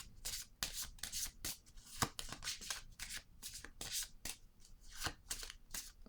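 Tarot cards being shuffled by hand: a steady run of crisp, close riffling and rubbing bursts in an irregular rhythm, fairly quiet and heard alone without speech.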